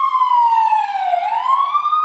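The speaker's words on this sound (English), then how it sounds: "it's already an ambulance going to handle business" An ambulance siren wails loudly and steadily, its pitch sliding down and then climbing back up as it passes close by, with no talking.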